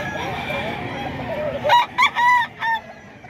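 A Kelso stag rooster crows close by in a loud broken burst of three or four harmonic segments, following a stretch of faint background chatter.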